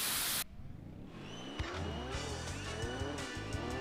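A race car engine in Gran Turismo 2 revs up in rising sweeps, then shifts gear and climbs again, with a tire squeal and a louder burst of noise at the very start.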